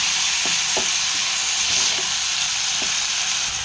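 Chicken and potatoes sizzling in a pan after ginger, garlic, green chilli and tomato paste go in, a steady loud fry hiss with a few soft stirring knocks and clinks, no voices.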